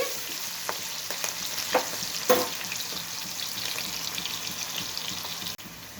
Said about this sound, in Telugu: ఇవి ఎర్రగా వేగాలి